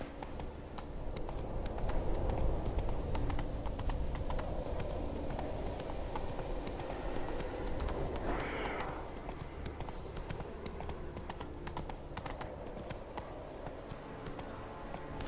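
Horse hooves gallop in The Witcher 3 video game, a continuous rhythmic clip-clop at moderate volume with a brief whoosh partway through, steady over a soft background.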